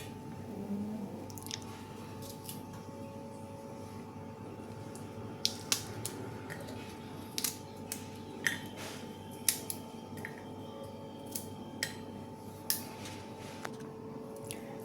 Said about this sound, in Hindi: सारी भिंडियों को मैं इस तरह से काट लूँगी